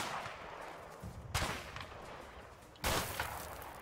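Gunshots in the video game A Way Out, two sharp distinct blasts about a second and a half apart over a low ambient background, with no talking.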